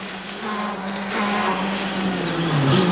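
A Junior WRC rally car at the 2009 Rally Ireland pulls away from the start. Its engine note rises steadily and grows louder over three seconds, with no talk over it.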